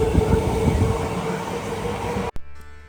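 A train idles at a village station, a steady low rumble and hum that cuts off abruptly near the end, followed by a faint quieter tail.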